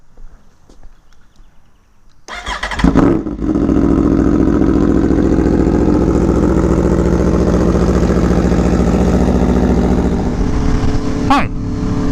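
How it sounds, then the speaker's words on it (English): A 2017 Aprilia Tuono V4 1100 Factory motorcycle cold-starts with a loud crank and catch, then settles into a steady, close, throbbing V4 idle with a brief clatter near the end. "another cold start"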